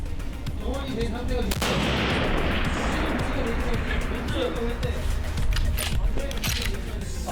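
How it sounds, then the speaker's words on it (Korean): Long-range sniper rifle fire at a military training range gives a sharp shot followed by a broad, rolling echo, loud against constant outdoor background noise and blended with voices. "작은 차이도 타겟 지점에선 큰 오차가 발생하는 원거리 사격."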